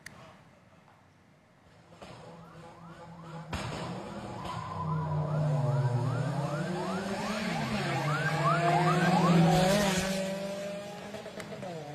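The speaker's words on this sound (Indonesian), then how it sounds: "Ketika balapan, lampu sirene menyala dengan suara yang meraung" An ambulance siren wails in rapid up-and-down sweeps during an illegal drag race against a sedan on a straight road, amid roaring car engines that grow louder as vehicles speed close by, with some voices in the background.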